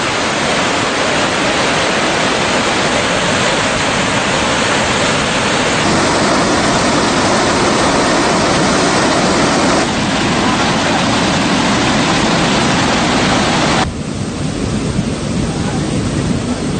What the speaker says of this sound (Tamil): முத்தேன்கட்டுக்குளம் மற்றும் வவுனிக்குளம் ஆகியன வான் பாய்ந்து வருகின்றன.